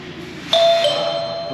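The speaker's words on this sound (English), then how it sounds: "Testing mo yung doorbell kung gumaga na siya." A doorbell being tested in a new apartment gives a single bright electronic ding-dong that rings out and fades slowly after a faint murmur of background voices.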